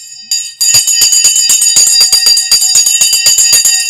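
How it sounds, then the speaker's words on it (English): An electric bell rings loudly and continuously after a short pause, a rapid metallic striking rattle with bright ringing overtones, close and alone. "The bell's gone right on the bell there."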